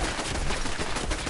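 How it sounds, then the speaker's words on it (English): Rapid automatic turret fire in Fallout 4, a dense burst of close, loud gunshots rattling continuously for a brief moment with no speech over it. "Oh, there's a turret up there. Look at there, that's what's getting me."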